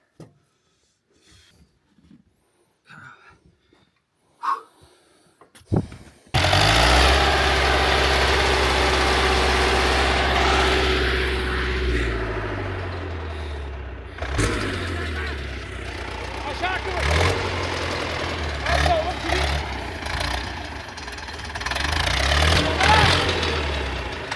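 Heavy forestry machine engine roaring in snow after a few faint knocks and thumps, a loud steady diesel drone with shifting pitch as it labours to recover the tipped-over machine, with people talking faintly underneath.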